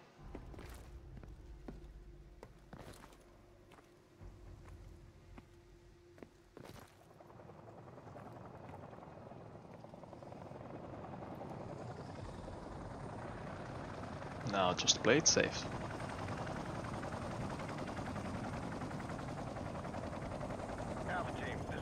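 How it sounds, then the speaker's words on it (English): Helicopter drawing closer in Modern Warfare Remastered, a steady rotor rumble that swells from faint to loud and dense over the clip, with brief sharp bursts near the middle and a voice talking early on. "Okay, the helicopter is coming."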